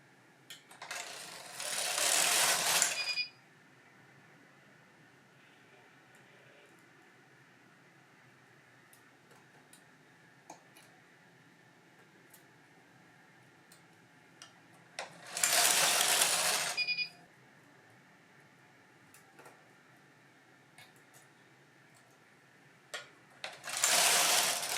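A knitting machine works Fair Isle mittens, its carriage sweeping across in three loud rasping passes of a couple of seconds each, separated by long quiet stretches with faint ticks and clicks.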